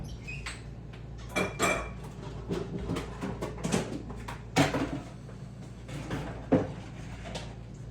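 Kitchen cupboard doors and dishes clatter quietly while a bigger bowl is fetched, with scattered knocks, clinks and bumps of varying strength and no talking.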